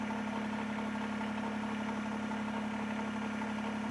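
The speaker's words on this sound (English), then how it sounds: "what you want to do is start the tractor" A Kubota BX23S compact tractor with loader and backhoe idles steadily, a constant low engine hum with a strong tonal drone and faint mechanical vibration, close by and without speech.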